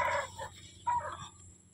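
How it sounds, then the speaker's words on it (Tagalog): Farm chickens raised for slaughter clucking nearby in short, irregular bursts, moderately quiet, with no talk. "Yan mga manok ko guys oh, hindi yan panabong."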